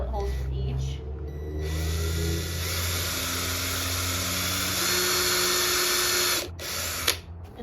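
A power drill whirs steadily for several seconds at close range, drilling pilot holes in wood, then winds down and stops, with a short rattle at the end.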